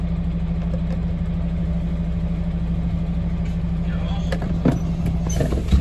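A semi-trailer tipper truck creeps forward at a loading plant, its diesel engine a steady low rumble up close, while someone talks over it and a few clanks sound near the end.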